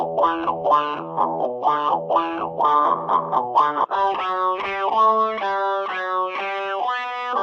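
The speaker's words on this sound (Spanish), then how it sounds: "es posible hacer hablar a nuestra guitarra con un pedal como estos" Electric guitar shaped into vowel-like, talking tones by a talk box, a run of distinct wah-like syllables with a chordal phrase, loud and upfront with no speech.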